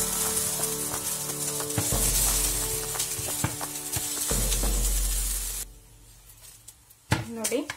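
Banana dosa sizzles steadily in a hot pan and keeps frying as it is flipped, with scraping and tapping of the spatula before the sizzle drops away near the end.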